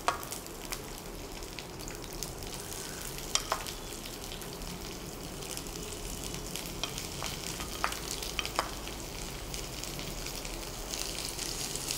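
Mustard seeds frying in hot oil: a soft, steady sizzle broken by scattered sharp pops and crackles.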